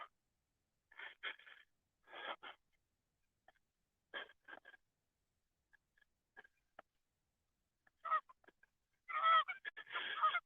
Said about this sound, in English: They're not ducks. They're geese. Canadian geese.